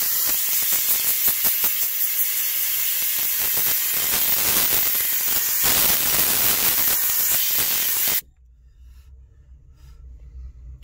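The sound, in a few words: steam cleaner pushing steam into upholstery seat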